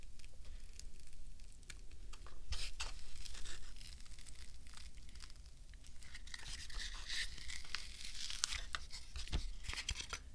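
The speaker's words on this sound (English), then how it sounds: "Let me peel this back." A silicone mold being peeled slowly off an MDF core gives a soft, continuous tearing and crinkling close up, with occasional small pops as the rubber releases.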